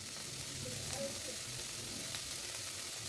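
Chopped onion, garlic, coriander leaves and ginger sizzle in a frying pan, a steady hiss of hot oil with faint stirring, quiet and close, while someone speaks softly over it.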